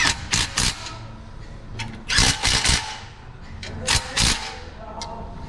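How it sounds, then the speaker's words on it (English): Tools tighten the oil pan nuts on a 2004 Chevrolet Suburban 1500 with the 5.3 engine during an oil leak repair. Close, short metallic bursts come in clusters, with some speech around them. "And then we'll tighten down the nuts."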